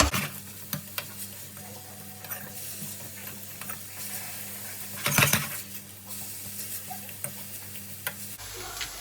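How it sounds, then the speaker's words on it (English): Mushrooms salted in a pan sizzle steadily while being stirred, with soft, irregular spatula taps and scrapes and one louder scrape midway, all close and without speech. "So I'm just going to just give it a good stir."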